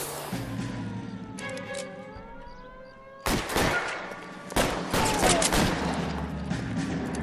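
Shotgun fire in the detective game L.A. Noire: a few loud, sharp blasts spaced apart, with a wailing siren-like tone and background game noise between shots.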